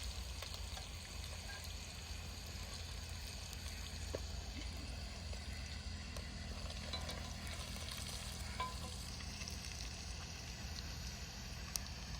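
Food frying in a pan in a village home, a steady broad sizzle holding evenly at moderate level throughout with a few faint clinks, no talking.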